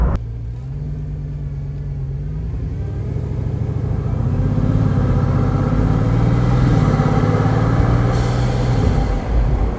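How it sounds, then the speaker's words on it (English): A Bugatti engine roars close up under hard acceleration, a deep, loud rumble climbing steadily in pitch with a hiss of rushing intake air, no talk over it. "This car is literally sucking thousands of cubic feet of air and 3 miles per gallon every time you push."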